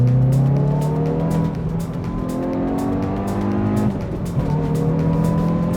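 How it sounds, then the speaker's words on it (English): A Hyundai i20N hot hatch revving hard on a dyno, its engine note climbing loud and close, dropping back, then climbing again, with no talk over it. "let's give it a little bit of throttle and see how it compares to its bigger brother"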